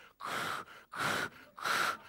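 A voice imitates snoring like a coffee machine, three long hissing, gurgling breaths in a steady rhythm, each separated by a short silence.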